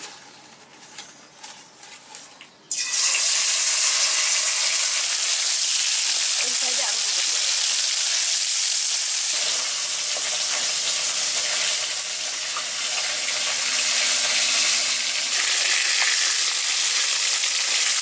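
Koi fish hit hot mustard oil with a sudden loud burst of sizzling that becomes a dense, steady hiss and crackle close by, lasting throughout after a few quieter seconds at the start.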